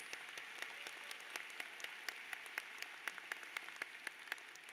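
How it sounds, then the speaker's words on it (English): Applause for student volunteers at a university commencement ceremony, a soft steady patter of many hands clapping from a distance, with a few sharper claps standing out. "Let's give them a big round of applause."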